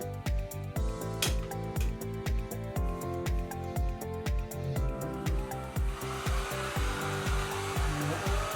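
A Feekaa kid's mini hair dryer runs with a steady, continuous motor whir at moderate level, holding even throughout with no one talking.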